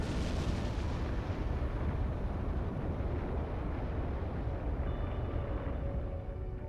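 A rocket lifts off in the video game Trails Beyond the Horizon with a loud, continuous low roar and rumble that stays steady and thick across the whole span.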